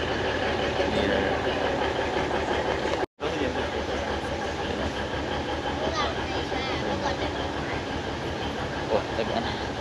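Alishan forest railway train running steadily close by, a continuous rumbling, clattering rail noise that fills the whole clip apart from one abrupt split-second cut, with voices talking over it.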